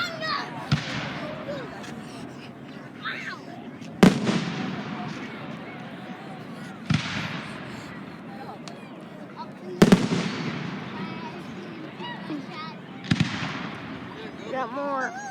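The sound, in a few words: fireworks going off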